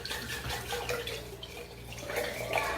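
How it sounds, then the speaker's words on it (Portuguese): Hot water poured from a kettle into a storage container, a steady splashing stream with drips, close and moderately loud. "Eu tô com a chaleira de água então eu vou jogar água quente aqui."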